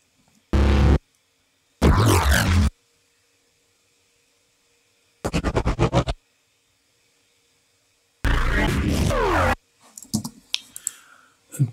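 Spaceship sound effects played from Logic's internal sampler come as short, separate bursts of noisy, textured sci-fi sound, each about a second long with silence between, the last a few crackling fragments.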